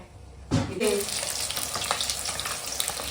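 Rohu fish pieces sizzle loudly in hot oil after being dropped into the pan, a steady crackling hiss that holds on without any talk.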